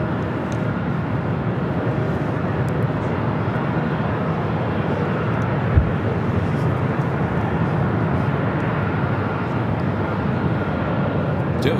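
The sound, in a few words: Asiana Cargo jumbo jet touching down on runway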